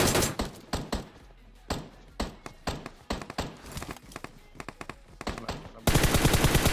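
Sharp gunshots crack in irregular bursts and rapid volleys in the video game PUBG Mobile, followed at the end by a sustained, dense stretch of loud firing.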